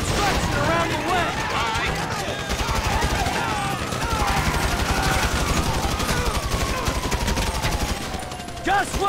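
Rapid bursts of automatic gunfire in Grand Theft Auto V crackle continuously, loud and close, with a voice shouting faintly beneath the shooting.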